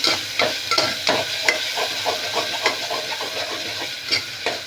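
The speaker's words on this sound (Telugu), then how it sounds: "ఇంకా కొంచెం బాగా ఫ్రై అవ్వనిస్తాము" Tomatoes fry in an open pressure cooker for chicken dum biryani, with a continuous hissing sizzle and repeated scraping stirs at a close, fairly loud level.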